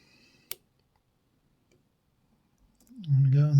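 A single sharp, close click of a pin setting while a Burg Wächter Profi lock is picked, followed by near silence and then someone speaking.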